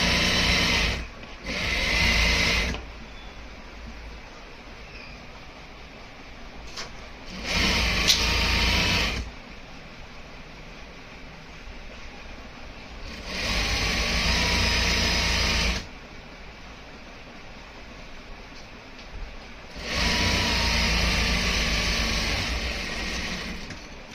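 A sewing machine stitches a ladies' pant pocket in four separate bursts of steady, loud running, with short quiet pauses between them.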